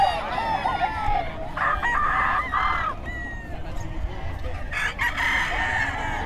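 A rooster crows at a pet market in Bocaue, loud and near, while other fowl cluck and honk amid busy market background noise.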